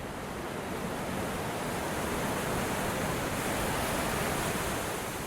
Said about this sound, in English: The waves are still big by the time they reach the shore.